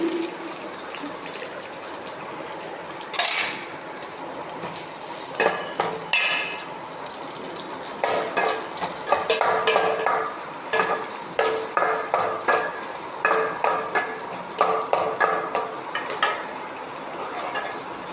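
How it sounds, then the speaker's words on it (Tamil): Onions fry and brown in a pan for a bitter gourd thokku, a constant sizzle under a series of sharp scraping stirs that come in quick bursts through the second half. "வெங்காயம் நல்லா செவக்கட்டும்"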